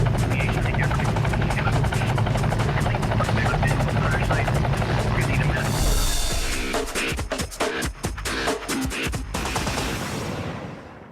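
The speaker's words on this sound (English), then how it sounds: "the helicopter struggles to find a safe place to land" A night air patrol helicopter roars loudly overhead, its dense rotor and engine drone broken later by rapid chopping bursts as the aircraft searches for a landing spot near a crash scene.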